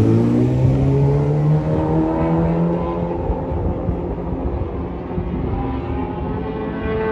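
A World Superbike racing motorcycle runs down the start-finish straight at the Valencia Ricardo Tormo circuit, its engine droning loud and close with shifting pitch before easing into a steadier, slightly fainter roar as it moves on.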